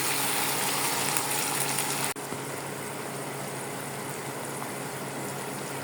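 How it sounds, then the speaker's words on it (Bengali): Water pours into a pan of fried ginger and garlic paste, cutting the loud sizzle to a sharp drop, then a softer steady bubbling hiss continues alone. "এখন পরিমাণ মতো পানি দিয়ে দেব।"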